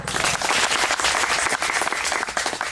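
Audience applause at a national seminar on rivers, stepwells and wells irrigation held at a college, steady dense clapping from a large crowd filling the whole stretch without a break.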